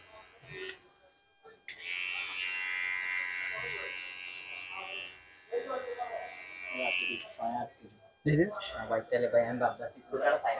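Electric hair clipper buzzing steadily for several seconds while cutting a taper fade, stopping and restarting, with someone talking before and after the runs.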